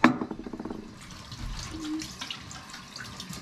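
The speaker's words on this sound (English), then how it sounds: "I gotta wash that gel off of my hands" Water running at a sink while gel is washed off hands: a brief clatter, then a soft, steady stream of tap water with faint splashing, close by and quiet.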